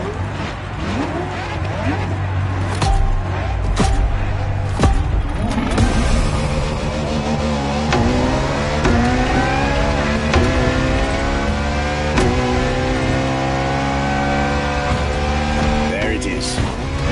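Ferrari LaFerrari supercar engine revving loudly and continuously, with rising and falling harmonic sweeps as the revs climb, heard close and steady with no gaps.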